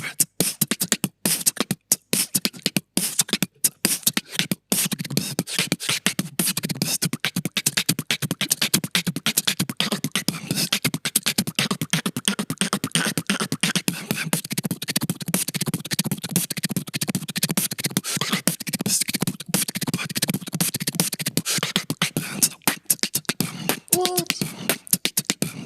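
A beatboxer imitates a full drum kit, layering kick, snare, hi-hats, crash and toms into one dense, continuous groove for over twenty seconds, loud and close with no talking.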